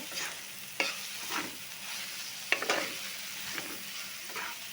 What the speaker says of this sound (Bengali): এখন আমি এর মধ্যে দিয়ে দিব মাছগুলো, দিয়ে দিব, দিয়ে ভালোভাবে একটু নাড়াচাড়া করে দিব